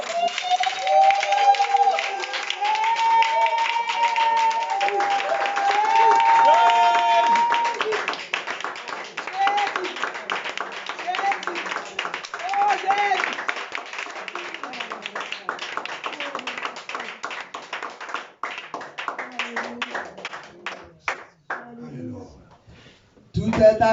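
A church congregation claps along steadily while singing and talk carry over it, a dense, rhythmic wash of applause that thins out near the end.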